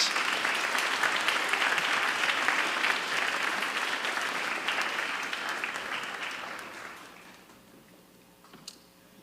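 Sustained audience applause for contestants and their instructors at a communications studies speech competition, a dense, even wash of clapping that gradually tapers off near the end.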